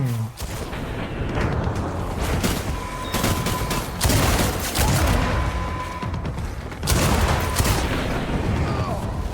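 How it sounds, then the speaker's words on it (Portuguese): Repeated loud shotgun blasts and gunfire in the video game Death Stranding, heavy booming shots in a cramped enclosed area, firing in quick bursts with brief gaps, dense and continuous over game noise. "Beleza, vamos de escopeta então"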